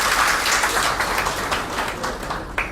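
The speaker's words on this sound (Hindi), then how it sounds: "एक बार जोरदार तालियां हम हेल्थ स्टाफ के लिए।" Audience applause in a government secretariat auditorium in Kaithal, Haryana, for health staff; close, fairly loud clapping from a gathered crowd that gradually tapers off, ending with a sharp single knock.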